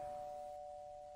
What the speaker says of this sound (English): I don't have a doorbell.